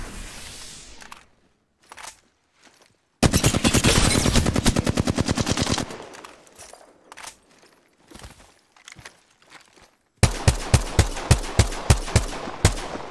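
Bursts of automatic gunfire in Apex Legends, a sustained rapid volley, then scattered shots and a later run of evenly spaced heavy reports, loud and close with gaps of quiet between.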